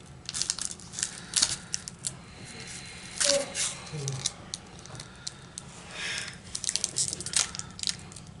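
Crinkling, crushing foil wrapper of a Commander Legends card booster pack being struggled open indoors, with repeated short tearing and crumpling bursts close to the mic amid soft room noise and brief talk.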